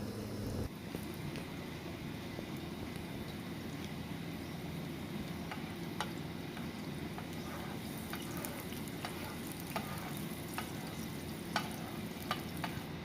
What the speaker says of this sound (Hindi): तो पहले लहसुन को घी में भूनेंगे अच्छी तरह से।